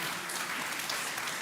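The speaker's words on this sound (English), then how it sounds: "Round of applause for that." An audience at a food industry summit at SXSW gives a brief burst of dense, continuous applause, many hands clapping at moderate loudness.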